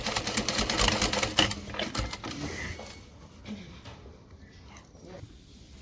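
A sewing machine top-stitches a fabric divider shut, running in a fast, close, clattering burst for about two seconds before stopping and leaving near silence.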